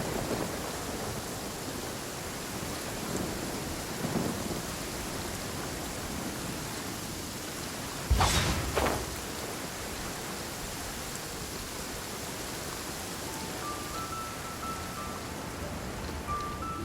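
Steady rain hisses evenly through a Genshin Impact game scene, with one sharp thunder crack midway that rumbles briefly before the constant downpour resumes, no talk.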